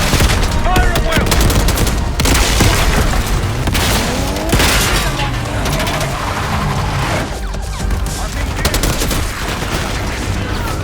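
Gunfire rattles through a Call of Duty Black Ops 6 assault on a palace gate: dense machine-gun bursts and sharp single shots layered with booms, loud and continuous for about eleven seconds, with voices calling out now and then.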